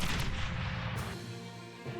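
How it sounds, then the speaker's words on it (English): Dual plasma cannons on small bots in a strategy video game firing in rapid bursts, a couple of sharp, booming shots up front trailing into a fading rumble. "since they have dual plasma cannons, they're able to shut them down easily with rapid fire"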